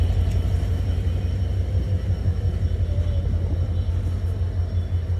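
The Ruposhi Bangla Express pulling away from a station toward Benapole, a heavy continuous low rumble of the train close by, steady and droning with no talk.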